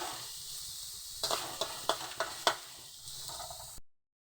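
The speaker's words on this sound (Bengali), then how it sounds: "এবার আমি ধীরে ধীরে আস্তে আস্তে এইভাবে নেড়ে নেব" Grated coconut stirred in a pan for a sweet, a soft dry sizzle broken by a run of distinct scraping and tapping strokes from the spatula before it cuts off into silence.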